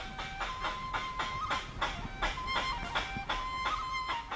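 Repeated sharp barking calls from giant black squirrels, about ten in a quick, regular series, somewhat distant over a faint forest background along the Mekong.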